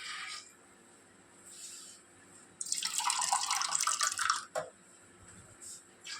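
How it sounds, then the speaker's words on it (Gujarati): Water pours from a tap into a pot of urad dal for a Kathiyawadi curry, a steady splashing stream lasting about two seconds against a quiet kitchen background. "એના માટે પાણી એડ કરી દઈશું."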